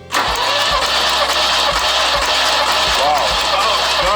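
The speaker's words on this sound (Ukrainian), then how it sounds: "Считаешь где-то по звуку, как будто 6-7 раз мотор, чтобы прокрутился." A car engine cranks loudly on the starter in a start attempt, rhythmic turning pulses running throughout at close range without catching.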